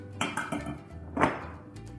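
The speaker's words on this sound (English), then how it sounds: "We've got our part cooked pasta to go in first." Part-cooked pasta tumbles into a big dish for a tuna pasta bake: a few close clinks and clatters of utensil and crockery, with a louder knock near the middle.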